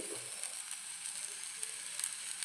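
Okra sizzling in hot coconut oil in a pan as turmeric powder goes in, a steady soft crackle and hiss with small pops, close and fairly quiet, no voices.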